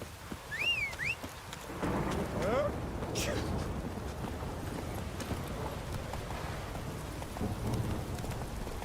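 Continuous rain hiss with low thunder rumbling underneath in The Witcher 3: Wild Hunt, dense and steady, with a few faint tonal chirps early on and occasional louder patters.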